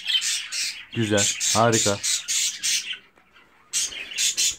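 Budgerigars squawking in loud harsh bursts while being unboxed from a shipping box, interleaved with someone speaking Turkish between the calls.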